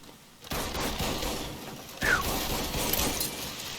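Gunfire in the video game Mafia 3: a sudden loud burst of shots followed by dense, continuous rattling fire with a second sharp surge midway, close and harsh.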